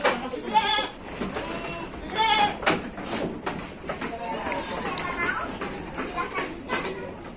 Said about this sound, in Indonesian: kambing, kan kambing Jawa koloni nih ya